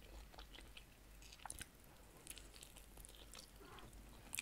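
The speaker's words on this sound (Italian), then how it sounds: "Andiamo all'assaggio delle alette. Sono rosolate bene dentro al forno." Crispy oven-roasted chicken wings seasoned with salt and paprika are chewed close up, with soft crunches and moist mastication, and a few sharper bites stand out over quiet room tone.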